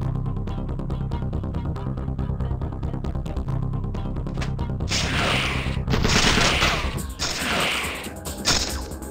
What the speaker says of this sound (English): If I take out that thug, it'll stop the machine gun.